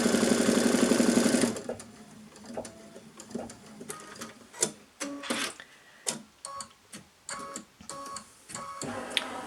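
An embroidery machine top-stitches along a quilt seam, first in a loud steady whir, then in bursts of rapid mechanical stitching separated by short pauses.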